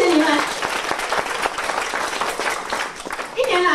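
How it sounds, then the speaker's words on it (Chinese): An audience at a Mandarin speech contest gives a speaker's club members a hearty round of applause, dense steady clapping filling the room throughout, with a voice briefly heard near the start and end. "给我升华的会友一个热烈的掌声"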